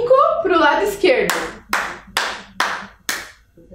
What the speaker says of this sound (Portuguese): Tem que contar o número de palmas.